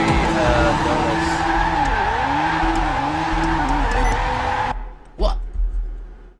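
Race car tires skid and squeal during victory donuts in a racing video game, a loud, sustained screech with wavering pitch under engine roar that cuts off abruptly, followed by a brief sweep and a few fading thumps.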